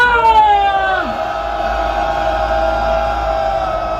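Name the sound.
crowd shouting loud cheer at rally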